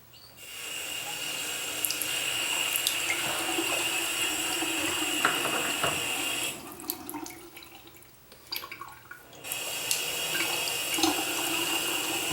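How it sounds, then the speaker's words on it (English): Water runs from a bathroom sink faucet with a leaking handle, a steady loud hiss and splash that dips briefly in the middle, mixed with a few clicks and rattles from the handle. "I turn the water on"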